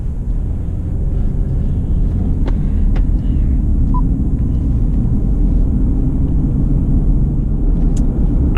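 Steady low road rumble and engine drone from inside a 2017 Subaru Legacy 3.6R with a CVT automatic as it drives, continuous and fairly loud with no talking.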